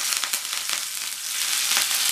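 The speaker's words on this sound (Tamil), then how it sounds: "தாளிக்கிறதுக்கு 2 டீஸ்பூன் எண்ணெய் விட்டு சூடாயிடுச்சு." Mustard seeds, urad dal and curry leaves fry in two teaspoons of hot oil for tempering a beans kootu, giving a steady, close crackling sizzle with small pops throughout.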